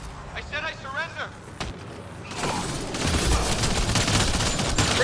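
Mass Effect Andromeda firefight: after a pleading voice, a burst of rapid gunfire erupts and continues as a dense, sustained fusillade, moderately loud and close.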